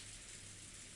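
Steady rain hiss from a video game, an even, faint wash of falling drops with no other sounds and no voices.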